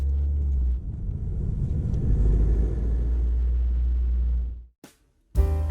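A manual car pulls away, its engine rumbling low and rising steadily as the clutch comes up, then cutting out abruptly near the end.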